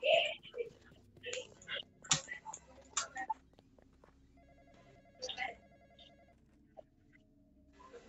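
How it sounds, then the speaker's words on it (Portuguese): A telephone rings inside a haunted-cemetery video game, sounding as a few bursts of electronic ringing amid scattered clicks and soft game effects, moderately close and fairly quiet. "Atenda o telefone aí."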